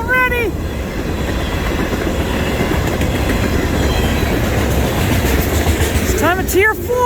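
CN freight train M347, led by locomotive 3308 "The Rattler" with distributed power, rolls past north of Conrath with a continuous loud rumble and rail clatter, and horn-like tones sound at the start and again near the end.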